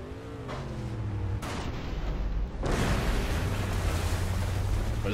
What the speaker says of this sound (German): Was ist denn da explodiert?